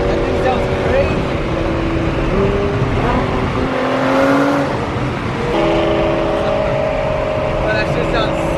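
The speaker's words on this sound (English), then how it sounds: "An E92 M3 and it sounds so freaking sick." BMW E92 M3 engine at a car show, a loud continuous tone with rising and falling pitches as it revs and idles, steady throughout, with people talking over it.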